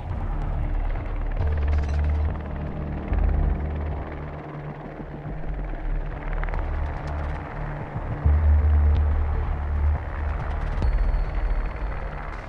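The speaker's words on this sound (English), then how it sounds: "Drone to locate a bomb." A remote-controlled drone from the game Rainbow Six Siege moving, a steady low whirring hum with a throbbing motor drone that swells and fades slightly, continuous and fairly loud.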